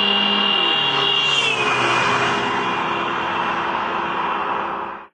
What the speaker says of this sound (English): When the car passes us, we hear a distinct drop in pitch because the sound waves are now spread out by the car.